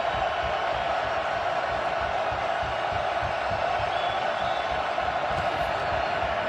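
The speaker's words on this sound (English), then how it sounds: "And they'll do it dealing with the crowd noise" Steady stadium crowd roar at an XFL football game between St. Louis and Seattle, a dense continuous wash of noise with scattered faint cheers and no clear talk over it.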